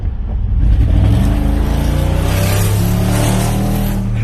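Loud, close V8 rumble from a 2021 Toyota Sequoia with one muffler removed, revving up hard and holding a deep, throaty drone.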